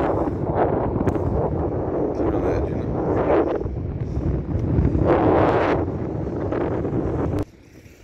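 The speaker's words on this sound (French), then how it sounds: "je peux vous dire qu'il y a du vent là, aujourd'hui" Strong coastal gusts at the Somme, facing Fort Mahon, buffet the microphone in a constant roar, with a person speaking briefly underneath before it cuts suddenly quieter.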